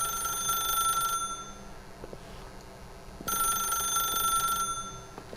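An electronic telephone bell in The Stanley Parable rings in two long bursts separated by a pause, loud and sustained over a quiet room tone.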